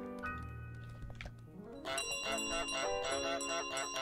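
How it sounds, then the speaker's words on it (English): A big bell rings in Untitled Goose Game, a bright metallic tone that grows loud and repeats over layered musical notes in the second half. "You have a big bell."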